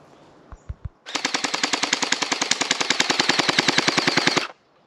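A gel blaster toy gun fires a fast, steady burst of several dozen rapid shots lasting over three seconds, preceded by a few single clicks, loud and close outdoors with no talk.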